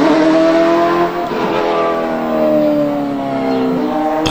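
A BMW M3 race car engine accelerates, its revving, harmonic-rich note climbing and shifting loudly and close, with no voices over it.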